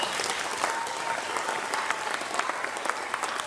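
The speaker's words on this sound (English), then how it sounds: "So let's give all these winners another round of applause." Audience applause for award winners at a school Veterans Day program, a steady dense wash of many hands clapping throughout, moderately loud and continuous with no talk over it.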